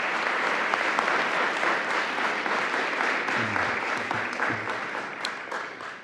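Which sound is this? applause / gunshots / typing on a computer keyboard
applause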